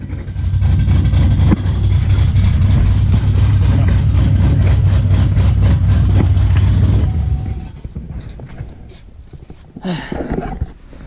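Cammed Chevrolet Camaro SS with a straight-piped 3-inch exhaust rumbling loudly up close with a deep, choppy idle for about seven seconds, then cutting to quieter engine sound and brief blips.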